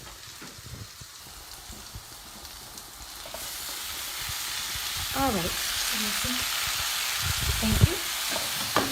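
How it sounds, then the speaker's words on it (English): Datterini tomatoes land in a frying pan and sizzle steadily. The frying builds and holds at a moderate level, with a few clinks of stirring and a brief spoken word over it. "I am going to add my daterini, okay, my tomatoes to my frying pan."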